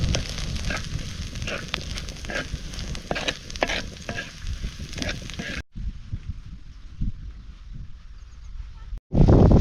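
A salted wild leafy vegetable being sautéed in a pan gives a loud, close sizzle with rustling stir strokes. It drops out briefly partway through, then returns in a sudden loud burst at the end.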